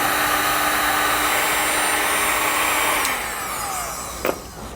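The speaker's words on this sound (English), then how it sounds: "Then we can grab a heat gun and shrink it down." A heat gun shrinks heat shrink tubing over wiring hardware on a 2018 Chevrolet, a steady loud blowing whir that softens near the end, followed by a brief knock, with no talking.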